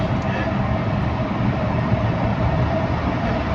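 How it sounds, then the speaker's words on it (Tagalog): Manila LRT Line 1 elevated light rail train passing, a steady broad rumble and rail roar filling the whole stretch at constant loudness, with some faint talk and coughing nearby. "Yan, nakikita nyo po yung tren."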